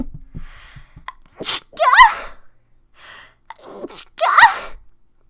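Two sharp sneezes a couple of seconds apart, each preceded by a quick intake of breath, close and loud.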